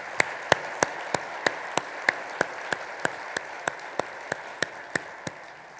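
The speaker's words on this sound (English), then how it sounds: "Give yourselves a round of applause." Single, evenly spaced claps ring out steadily at a national sales conference, sharp and moderately loud over a quiet room hum, with no crowd swell.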